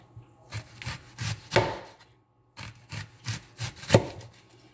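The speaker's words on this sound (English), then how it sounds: "So this is how they cut this onion." Onion being sliced with a knife on a board for Nigerian suya street food, a series of crisp rhythmic cuts in two bursts separated by a short pause, close and distinct with no talking.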